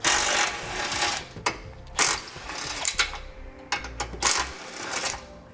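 Four 14mm bolts being removed from a base plate mounting point on a 2017 vehicle, giving bursts of loud ratcheting clicks with brief pauses and clanks of metal tools, close up, with no talk.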